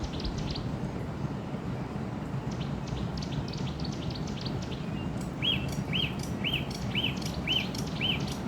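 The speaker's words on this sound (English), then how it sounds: "Birds arrive, drawn by abundance, feeding, hunting, thriving." Birds call and chirp over a flooded area in Kruger, with scattered high twitters and then a regular series of about six clear repeated notes, all over a constant wash of water and rain-like ambience.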